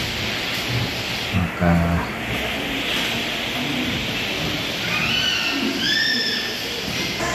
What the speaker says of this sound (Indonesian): Sambil menunggu hujan deras karena di luar tadi hujan keras